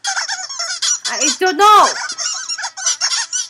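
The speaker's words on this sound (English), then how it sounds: "They're chirping like squeaky toys." Cartoon birds from Pixar's For The Birds squeak and chirp like squeaky toys in a busy, honking chorus, with one long rising-and-falling squeal in the middle while a person speaks briefly over them.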